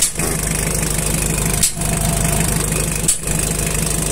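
4DR7 diesel engine running at a steady idle, a close, loud, even rumble with a regular pulsing beat and two brief dips in the sound.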